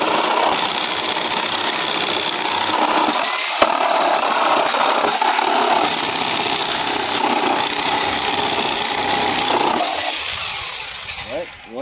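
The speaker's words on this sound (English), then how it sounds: "go back in there and get your reciprocating saw and finish the job" A reciprocating saw cuts through a wooden pallet, its loud, buzzing rasp running almost nonstop and close by, with a brief catch partway through before it winds down at the end.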